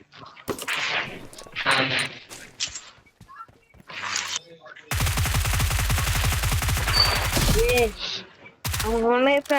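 Bursts of rapid gunfire play from a TV or video game, first in short volleys and later in one long fusillade, with people talking in the room.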